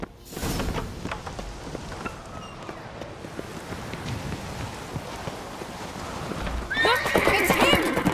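A horse in The Witcher 3 whinnies loudly near the start and again near the end, with galloping hoofbeats and light rain throughout in the game scene.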